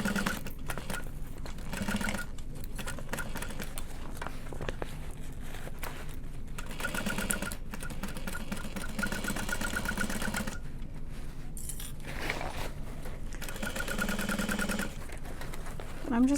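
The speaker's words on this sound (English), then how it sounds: "I'm just gonna sew further into the lining until I get to the other mark" A sewing machine stitching into a bag lining runs in a steady whirring drone with brief pauses and fabric rustles, close and continuous.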